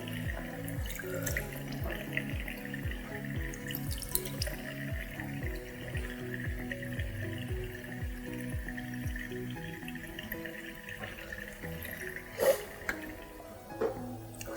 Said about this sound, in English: you proceed to rinse